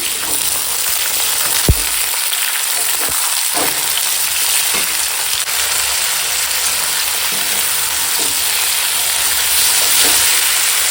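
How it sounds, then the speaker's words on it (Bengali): Cut long beans, radish and potato frying in very hot oil with five-spice seasoning, a dense, loud, continuous sizzle with a few soft stirring knocks, heard close with no voices. "বাকি কেটে রাখা সব সবজি বরবটি মূলো আলু দিলাম"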